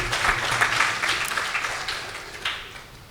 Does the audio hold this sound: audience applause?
yes